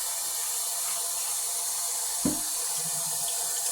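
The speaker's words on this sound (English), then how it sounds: "And then I fill the rest with cold water" Cold tap water filling a spray bottle, a steady faint hiss of running water throughout with one brief knock partway through.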